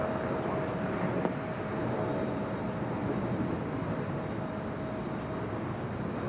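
A jet airliner takes off from runway 24 left at LAX, heard from a high hotel vantage as a steady, broadband roar that holds at an even level throughout, with a faint tonal whine above the rumble and no talk.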